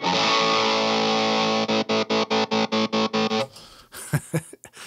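A harsh, bright distorted Gibson SG electric guitar on the bridge pickup sustains a chord, then chugs in rapid palm-muted stabs before scraping noisily to a stop.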